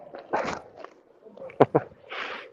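A dog being petted outdoors gives a few short, soft whimpers and yips close by, brief and scattered among people talking.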